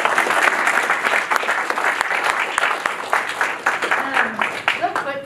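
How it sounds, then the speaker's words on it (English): Audience applause after a marketing seminar talk, a loud, dense crowd of clapping that gradually thins out, with a few people talking and a cheer near the end. "Can we get a round of applause for that?"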